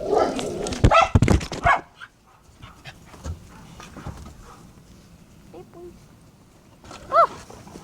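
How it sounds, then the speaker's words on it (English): German Shepherds bark loudly in a burst of overlapping barks, played back from a video, then fall quiet before a single bark returns near the end, with a voice faintly present. "Oh! Scary German Shepherds. See those? Scary German Shepherds."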